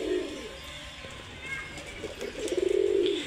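A pair of white Kakji pigeons coos up close: soft, low throaty calls that swell into a rolling, pulsing coo toward the end, over light background noise.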